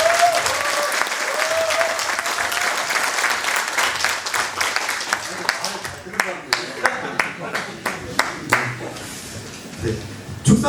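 An audience applauds public officials at a ceremony of the Suncheon livestock associations' federation. Dense, loud clapping gradually thins into scattered, distinct individual claps toward the end.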